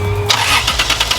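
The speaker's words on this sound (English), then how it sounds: "I've actually got the car started." A Lexus IS300 engine cranks and catches at about 0.3 s, then settles into a loud, steady idle close by with a rough, pulsing character.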